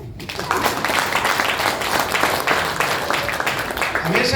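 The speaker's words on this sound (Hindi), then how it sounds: "तालियां मारो के लिए।" Lecture audience clapping together in a hall, a dense, steady burst of applause that carries on for several seconds at a fairly loud level.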